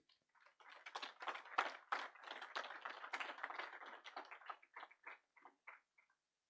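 Applause for the panelists at a summit on the future of work, a brisk run of distinct claps that swells quickly, holds, then thins into scattered final claps before stopping, heard at a distance.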